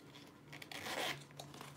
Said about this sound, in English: So there's the zipper.